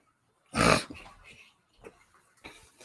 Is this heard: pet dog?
yes